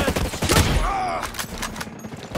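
Gunfire bursts from a video game, Ghost Recon Breakpoint, with sniper rifle shots cracking loudly at the start and a voice speaking partly over the shots before the sound fades.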